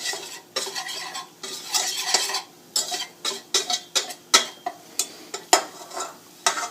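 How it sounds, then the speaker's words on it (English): A whisk working through a flour roux cooking over a medium flame for lasagna, rapid rhythmic metal scrapes and taps against the pot in repeated bursts, close and with no talk. "We're using a whisk for this"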